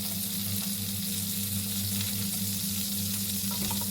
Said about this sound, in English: And just going to melt some butter in there as well.